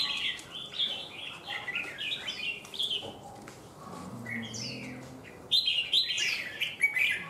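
A caged songbird, a domestic fighting bird in an ebony cage, chirps and tweets in quick bright bursts throughout, fairly close and moderately loud, with soft background noise and no talking.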